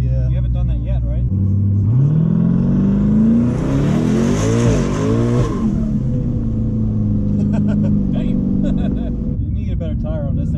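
A twin-turbo Camaro ZL1 accelerates with manual shifting, its engine droning loudly then rising in a sweeping climb through a gear change before settling back, with occupants talking inside the car throughout.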